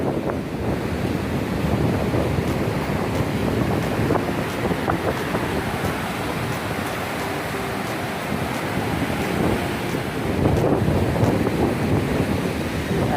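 Sea waves on Nai Harn beach in Phuket roll in as a continuous, loud wash of surf, mixed with heavy wind buffeting, and a surge swells near the end. No one speaks.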